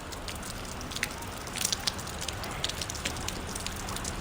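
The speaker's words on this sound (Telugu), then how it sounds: "చాలా అయితే వర్షం పడుతుంది." Heavy rain pours down at night as a steady, dense hiss with scattered sharper drop taps, continuous and even throughout, with no voices.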